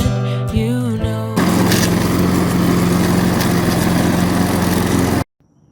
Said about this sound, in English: I took about 5 seconds of footage of me mowing